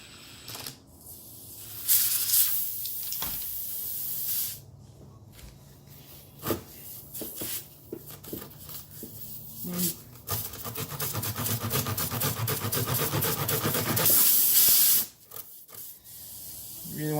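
Air hisses from a nail-punctured car tire while a plug is pushed into the hole, a steady rushing spray close by that grows louder toward the end, broken up by short rubbing and ratcheting tool noises.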